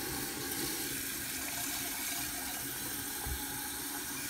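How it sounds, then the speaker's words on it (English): Regular tap water runs steadily into a container for an electrolysis cleaning setup, a continuous even splashing rush with no break and no talking. "so I'm just going to use regular tap water."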